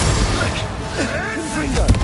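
Bombarda blasting spell cast in the Hogwarts Legacy video game during a fight in Horntail Hall, a brief booming burst over chaotic combat noise and a voice.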